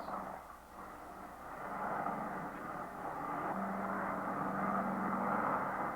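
A United Douglas DC-6 propeller airliner on landing approach, with a steady, droning piston engine and propeller hum that swells gradually and holds loud and close throughout.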